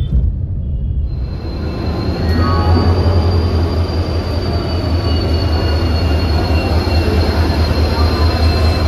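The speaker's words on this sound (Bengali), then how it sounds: "নম্বর প্ল্যাটফর্মে যথাসময়ের আগেই পৌঁছালো হাওড়া পুরী সুপারফাস্ট এক্সপ্রেস।" The Howrah-Puri Superfast Express pulls into a station platform with a loud, close, continuous rumble and a sustained high metallic wheel squeal running throughout.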